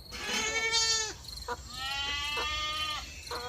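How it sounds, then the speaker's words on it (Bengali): A goat bleats outdoors in the late night toward dawn, giving three wavering, nasal bleats in close succession, fairly loud and near, with no other sounds. "বাইরে ম্যাঁ ম্যাঁ শব্দে ছাগল ডাকছে।"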